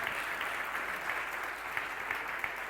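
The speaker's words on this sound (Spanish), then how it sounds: "Creo que Dios y Jesús se merecen un grande aplauso." Church congregation applauding during a Sunday service, a full, even roar of many hands clapping continuously at moderate loudness with no voices standing out.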